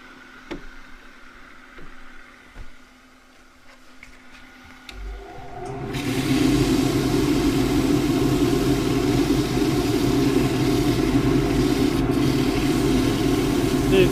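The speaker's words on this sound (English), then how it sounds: "And the last little bit that'll get sanded off the lathe." A small green casuarina bowl spins on a wood lathe with 120-grit abrasive pressed to it: after a quiet stretch of light knocks, the lathe starts and a steady, loud motor hum with a rushing sanding hiss carries on to the end.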